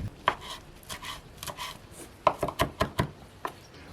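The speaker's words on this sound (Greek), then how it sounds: "Ψιλοκόβουμε το δυόσμο." A knife finely chopping fresh mint on a board gives quiet, irregular taps, some spaced out and then a quicker run of cuts, with no talking.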